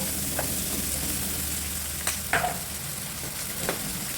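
Sliced onions sauté in a hot pan for a stir-fry of vegetables with oyster sauce and chicken, giving a steady close sizzle broken by a few sharp clatters of stirring, with no talking.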